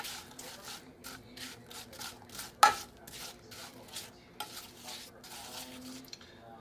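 Apples cooking down with sugar in a pan are stirred steadily, giving a repeated scraping and rubbing rhythm against the pan with one sharper knock partway through, close and fairly loud without any talk.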